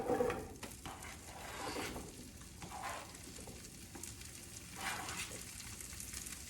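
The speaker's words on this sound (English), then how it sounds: "now that the butter and olive oil is warm, we're gonna add our asparagus to it" Asparagus sautéing in warm butter and olive oil, a soft, steady sizzle at moderate distance with a few faint clinks and stirring swells, no talking.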